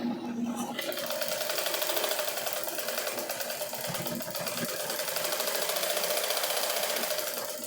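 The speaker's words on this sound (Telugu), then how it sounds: "కుడుతున్నాను చూడండి." A sewing machine stitching the hem of pants cut down into shorts: a fast, continuous mechanical whir and rattle, close and steady throughout, with a short pause near the start and brief voice traces at the beginning.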